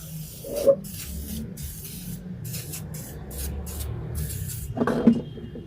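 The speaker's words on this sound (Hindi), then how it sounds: "स्प्रे कर दें इस तरह" Cleaner is sprayed from a trigger spray bottle onto a cracked car headlight lens: a close, hissing burst at the start and another near the end, with a low steady background rumble between them.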